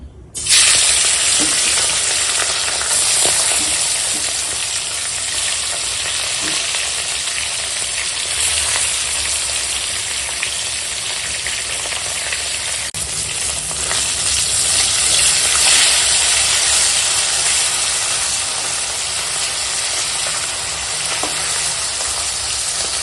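Loud, continuous sizzling of turmeric-and-salt-coated bhangar fish frying in hot oil, a bright crackling hiss that holds steady throughout, close by and without speech.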